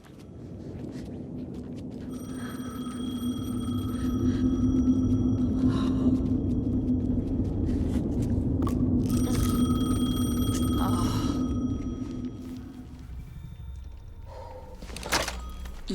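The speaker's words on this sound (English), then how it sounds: "The phone again." A telephone rings inside the Alan Wake 2 video game, with repeated electronic bell bursts at a steady interval over a low droning game ambience, fairly close and clear.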